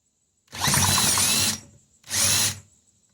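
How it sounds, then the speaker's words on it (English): A power drill whirs at high speed for about a second, stops, then spins again in a shorter second burst, close and loud. "Got the drill on."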